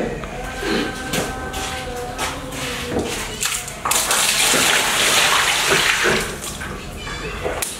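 Clear water is drawn and poured at the Istana Niat Lima Laras palace, a steady close splashing and gushing that swells halfway through, with voices faintly underneath.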